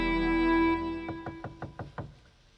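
Knocking on a wooden door, about six quick, evenly spaced raps at moderate volume that follow a sustained tone fading away.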